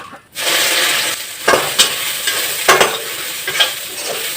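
Soybean curry cooking in a black wok, its loud close sizzle punctuated by several sharp scrapes as a spoon stirs through it, after a brief moment of quiet at the start.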